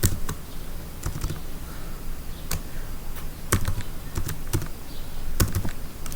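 Keys clatter on a computer keyboard as Python code is typed, in irregular bursts of close, crisp clicks over a low room hum.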